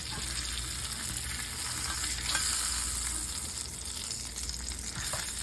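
Pecan-crusted tilapia frying in a pan, a continuous close sizzle with a brief swell as the fillet is turned, no one speaking.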